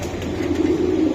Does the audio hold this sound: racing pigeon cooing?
yes